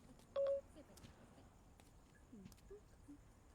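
A phone tone sounds once briefly and loudly near the start, then only a quiet room with faint background noise; the call is placed by voice command on an iPhone's Siri.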